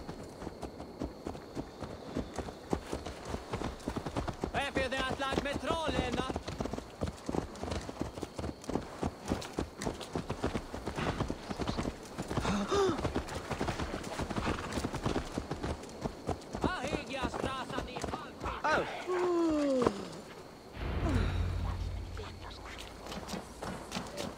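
Horse hooves clip-clop steadily in Assassin's Creed Valhalla, a brisk rhythmic clatter running throughout under ongoing speech, ending with a low thump.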